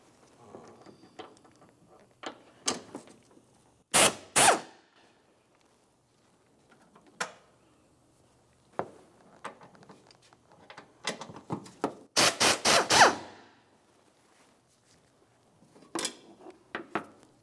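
A wrench loosening battery tray bolts on a 2000-2006 Chevrolet Tahoe: sparse metallic clicks and ratcheting taps, with a few sharp, loud clanks of metal against metal in a quiet space.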